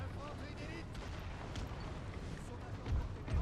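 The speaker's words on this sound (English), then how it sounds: "we're receiving quite a bit of cannon fire at this point" Distant cannon fire on a Napoleonic battlefield in Napoleon Total War Era Mod, a low rolling rumble of booms beneath a voice, with a heavier thud near the end.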